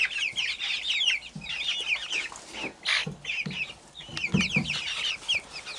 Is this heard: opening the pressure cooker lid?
no